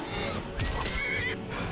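Horse whinnying in the fantasy role-playing game Skyrim, a loud, close neigh with a rising, wavering cry in the middle, set over constant combat and ambient game noise.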